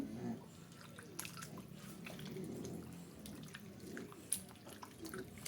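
Tap water runs and drips over raw chicken being rinsed in a kitchen sink, a faint trickle with scattered small splashes and one sharper drip.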